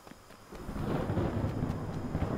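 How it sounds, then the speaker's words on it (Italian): Thunderstorm ambience in the video game Smalland, a low continuous rumble with rain-like hiss that swells after a quiet start and rolls on steadily, no talking. "Anche il temporale che ci fa da sfondo"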